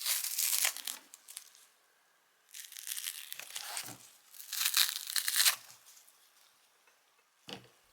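Raw green banana skin is pulled apart by hand, giving several close, crisp tearing and crinkling rips separated by short pauses.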